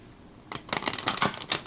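Stiff, thick tarot cards of heavy cardstock riffled and shuffled in quick rapid bursts of crisp flapping clicks, close by after a brief quiet start.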